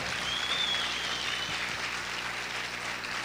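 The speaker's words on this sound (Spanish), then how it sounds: "¿Cuántos pueden aplaudir fuerte al Señor?" A church congregation applauds loudly at a sermon, a moderately distant, even wash of clapping that holds steady across the moment, with a faint whistle-like tone briefly rising early on.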